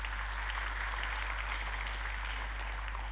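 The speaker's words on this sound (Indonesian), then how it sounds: "Boleh kita kasih tepuk tangan?" Clapping from a church congregation fills the room, a continuous wash of applause over a low steady electrical hum, with no speech on top.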